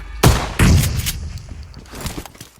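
Shotgun blasts in a military-mode shooter video game: two heavy, close booms a fraction of a second apart, followed by quieter scattered shots and game noise.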